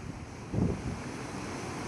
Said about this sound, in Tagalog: Ayan ngayon ang sitwasyon dito sa port. Ayan o. Ayan. Lalaking alon.